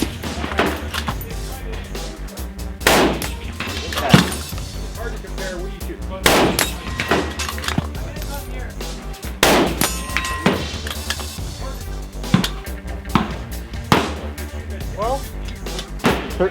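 Shots ring out from a custom Italian precision rifle during a timed drill, several sharp loud reports spaced a couple of seconds apart, each followed by a clanging steel-target ring, with talk between them.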